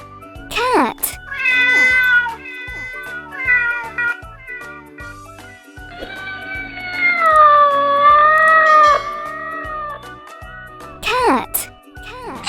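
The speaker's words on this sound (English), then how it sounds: "Cat." A cat meows repeatedly, drawn-out wavering cries, some long and plaintive, close and loud with short pauses between them.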